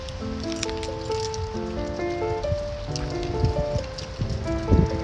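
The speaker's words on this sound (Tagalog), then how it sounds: "it's raining" Rain patters steadily on surfaces around the Canada Place flyover area, a dense continuous spatter with occasional louder drips close by, heard alone without voices.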